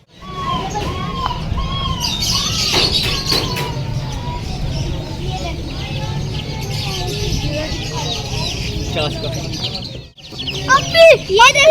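Quail and other birds chirp and cluck at a pet market, a dense continuous mix of chirps and calls filling the background, with people talking over them and louder bird calls near the end.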